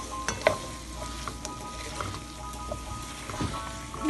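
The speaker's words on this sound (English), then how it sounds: "We're making it saute for about 5 minutes." Shrimp, pineapple and onion sauté in a home kitchen pan, giving a low, steady sizzle with faint stirring scrapes and occasional clinks, fairly quiet throughout.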